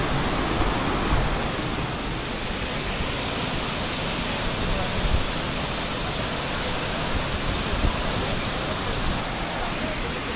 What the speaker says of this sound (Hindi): अभी मैं हूँ बागसुनाथ वाटरफॉल पे, देख सकते हैं पीछे क्या ही सुंदर नज़ारा है।